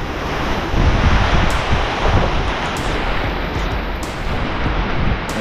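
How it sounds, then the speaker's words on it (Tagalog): Strong typhoon wind on Burias Island roars continuously, a loud, buffeting rush of gusts with rough surging peaks and no voices. "yung hangin mga kasani, grabe ang lakas ng hangin"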